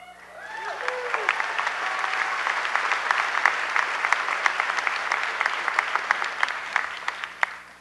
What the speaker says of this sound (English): I'm going to suggest that we hold our applause until we've announced all of the award recipients.